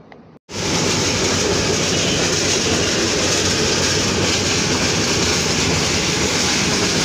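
The Nasirabad Express night train runs on rails between Feni and Bhairab in Bangladesh, a loud, steady rumbling roar with a faint clatter that starts abruptly after a brief quiet moment and continues unbroken.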